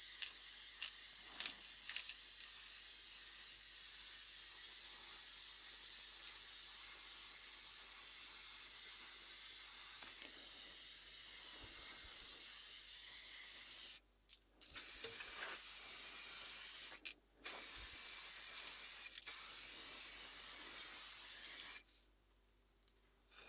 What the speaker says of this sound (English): I shake it already for 1 minute, and now I spray.